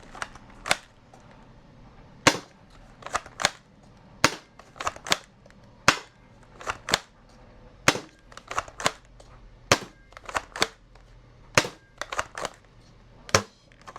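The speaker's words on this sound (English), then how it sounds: "let's go ahead and put 18 shots downrange" A Nerf dart blaster fed from an 18-round slim short-dart magazine fires a rapid string of sharp, close snapping shots in irregular bursts, with no talking.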